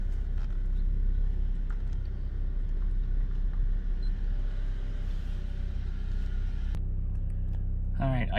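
Interior engine drone of a 2008 Honda Accord with cylinder 2, 3 and random misfires, accelerating at full throttle: a steady low rumble throughout, shifting near the end, with a voice briefly over it.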